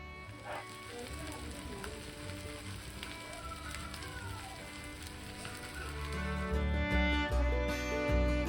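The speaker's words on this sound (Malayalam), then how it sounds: "ലോ ഫ്ലെയിമിൽ വെച്ച് മീനിനെ 2 ഭാഗത്തും നല്ലതുപോലെ ഫ്രൈ ചെയ്തെടുക്കാം." Fish frying crisp on a low flame, a soft steady crackle and patter of hot oil that grows denser and louder near the end, with faint background sounds but no clear talk.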